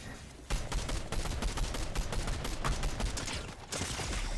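Dense video game gunfire, a sustained fusillade of rapid automatic shots lasting several seconds, loud and continuous with a brief dip near the end, no voices.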